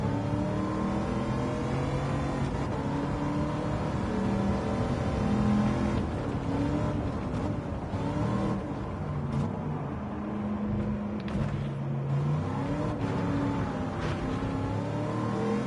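A race car engine in Gran Turismo 7 holds a steady, loud drone throughout, pitch rising and dipping slightly as the throttle is worked, with no talk over it.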